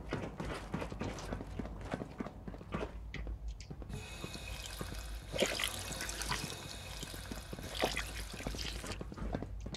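Water running and splashing while a character collects water in Fallout 4, a steady wash of liquid noise that swells after a few seconds and continues alongside other game ambience.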